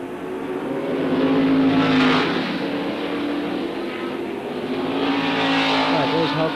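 Race cars in the 1972 Tasman Series at Adelaide roar past, engines revving and swelling in a close pass around two seconds then rising again, a continuous loud motor drone with commentary-like voice beneath.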